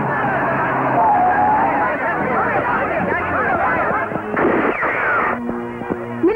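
A big firecracker explodes in a Tamil movie scene, a loud blast and crackling burst sounding amid crowd babble and talking voices.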